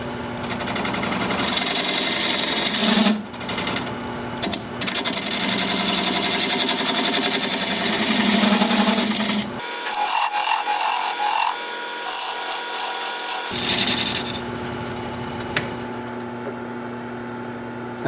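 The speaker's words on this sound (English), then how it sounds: "I'm going to use a little smaller gouge." A small gouge cuts wood on a lathe while turning a candle holder, making a loud, continuous scraping rush. The cutting drops away briefly midway and then resumes over the lathe's steady hum.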